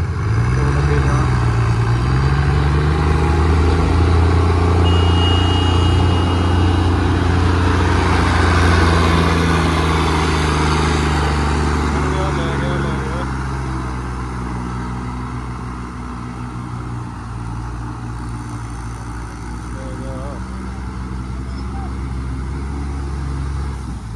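John Deere and New Holland tractors work muddy farm soil, their diesel engines making a loud, continuous low drone that rises and falls as they strain, fading slightly in the second half.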